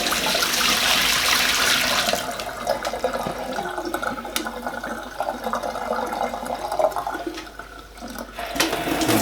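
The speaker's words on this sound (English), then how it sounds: "So I'm just going to tip out the citric acid." Citric acid descaling solution tipped out of a kettle, pouring steadily into a sink with a loud rushing splash at first that eases to a softer, uneven flow, no voices.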